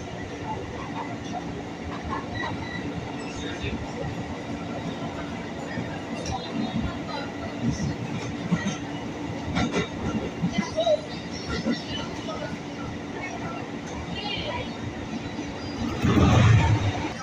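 Jakarta commuter train rolling into Cikini station, a continuous low rumble of the carriage with scattered wheel clicks and rattles, someone talking over it, and a louder burst of noise near the end.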